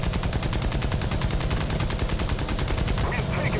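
Aircraft guns fire in the video game War Thunder, a loud continuous rapid burst of evenly spaced shots lasting the whole few seconds, heard without talk.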